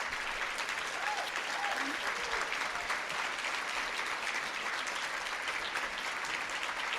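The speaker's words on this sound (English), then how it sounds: "you guys got to keep standing, but you have to stop clapping" A standing audience at a presidential address to a scholarly association claps in a steady, sustained wash of applause filling the hall, with faint crowd noise beneath and no clear speech.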